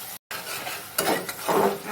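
A spice paste mixed with yogurt is stirred and fried in a pan, giving a steady sizzle with scraping strokes that grow louder toward the end, broken once by a brief gap of silence.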